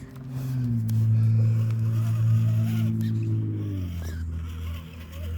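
A Redcat Gen8 V2 RC crawler truck whines its electric motor as it climbs over backyard logs, the pitch rising and falling with the throttle, fairly close and steady under brief faint background sounds.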